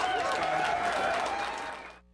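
A crowd applauds Jeb Bush during a campaign visit near the border, with a dense, steady wash of clapping that fades out toward the end.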